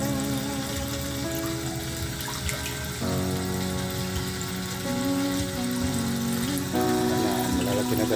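Water gushes fast from a tap into a container holding catfish, a loud continuous rushing with rising tonal ringing as the vessel fills.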